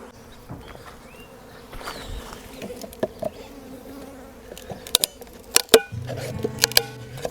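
Honey bees buzz around a queen release while beekeeping work goes on, a continuous close insect drone with scattered clicks and knocks from handling equipment.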